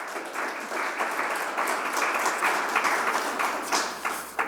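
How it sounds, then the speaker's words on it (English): Audience applause at a voting-rights advocacy event, a sustained mass of clapping from a moderately distant crowd that swells and holds with a slight fade at the end. "Can we give her another round of applause?"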